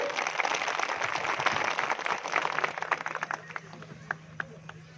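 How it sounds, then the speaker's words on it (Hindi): An audience at an Indian political rally in Prayagraj claps, with dense applause thinning out into scattered separate claps over a few seconds, and voices in the background. "जोरदार ताली बजा के स्वागत करिए।"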